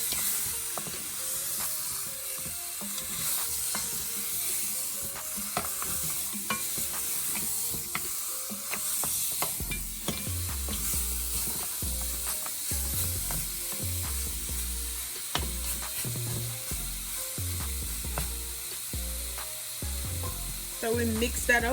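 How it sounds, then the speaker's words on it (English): Curry goat being stirred in a pot for a Jamaican dinner: steady sizzle and hiss of frying, with rhythmic heavy scraping and clunking stir strokes becoming prominent in the second half. "Then we're gonna give that a good mix."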